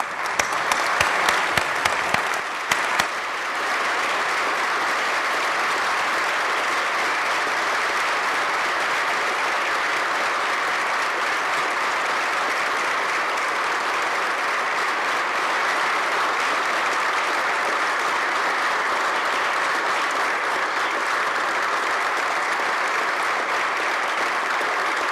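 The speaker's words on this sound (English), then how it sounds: "including Brigadier General Bontrager, if you would please rise so we can give you an appropriate round of applause." A crowd on the New York Senate floor applauds at length, with steady, dense clapping that carries on unbroken for the whole stretch, loud and close.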